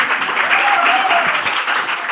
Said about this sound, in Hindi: तालियां अपने लिए बजाए कि आपने पूरा मुशायरा सुना।